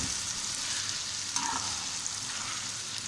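Chicken and fried okra being mixed and stir-fried in a pan, a steady close sizzle with soft scraping of the spatula through the pieces, no voices.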